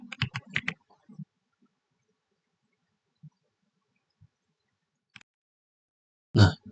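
Keystrokes on a computer keyboard, with a quick burst of clicks at the start followed by a few scattered single taps and a louder final thump, all close and clear with no talk.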